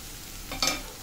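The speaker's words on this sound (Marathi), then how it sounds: "तेलात भाजून घेऊ सिमला मिरची." Capsicum pieces fry in oil in a pan for a paneer mushroom masala, a soft steady sizzle with one brief, louder stirring scrape near the middle.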